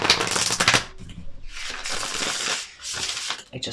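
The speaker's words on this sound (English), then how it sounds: "One more shuffle" Tarot cards being shuffled by hand in a series of papery riffling bursts with brief pauses between them, close up, with no talking.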